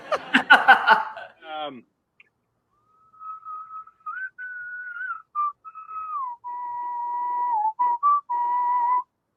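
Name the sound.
human whistling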